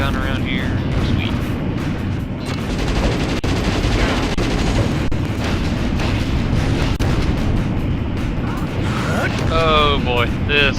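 Rapid video game gunfire rattles in bursts over dense, booming game noise, loud and continuous, while someone talks over it.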